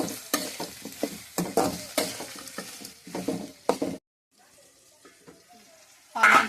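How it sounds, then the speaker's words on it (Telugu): Onions fry in a pan and are stirred, giving a close, rhythmic series of scraping and sizzling bursts for several seconds, then a short near-silence before another loud scrape. "ఆనియన్స్ బాగా వేగాయి."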